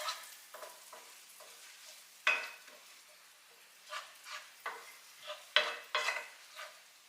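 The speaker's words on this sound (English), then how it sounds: "we're going to saute that until it turns translucent" Chopped onion sautéing in a pan until translucent, a soft close sizzle broken by irregular spoon scrapes and stirring strokes, quiet with no talking.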